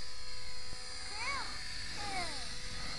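Electric motor of a FlyZone Fokker Triplane RC model flying indoors on a draining battery, a faint buzzing whine that rises and falls in pitch twice over a steady background hum, with people talking nearby.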